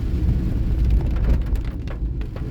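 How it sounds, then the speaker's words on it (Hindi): Heavy rain drumming on a car while driving near Murree in northern Pakistan, a loud dense rumbling wash that eases slightly toward the end. "आवाज़ ऐसी थी बारिश की कि गाड़ी में तो कुछ ज़्यादा ही फील हो रही थी कि बहुत तेज़ बारिश हो रही है"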